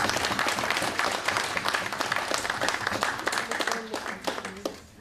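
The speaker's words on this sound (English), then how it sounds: "I want a round of applause for that" An audience applauds at the Caribbean Competitiveness Forum, a dense crowd clapping that stays strong and then thins toward the end, with some voices mixed in.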